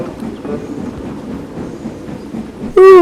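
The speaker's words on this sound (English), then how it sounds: "As Duck took his morning train over it, he felt a bump in the track" A train rolls steadily over a cracked, patched-up bridge, a low continuous rumble with a faint bump, cut off at the end by a sudden loud, sliding whistle-like tone.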